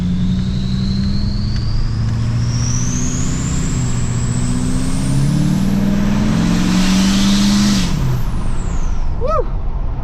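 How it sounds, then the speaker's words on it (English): Inside the cab of a truck running a downpipe-only exhaust, a rising whistle climbs over a loud engine drone as it accelerates, then a hiss of air release near the end. "my exhaust is only my downpipe, so it's gonna whistle like anything right in the cab here"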